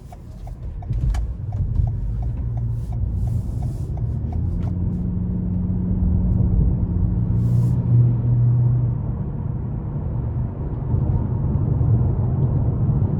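A 2021 Toyota Camry Hybrid XLE drives on the road, its steady low rumble of road and tire noise filling the cabin evenly throughout, with a few light ticking clicks early on and no talking.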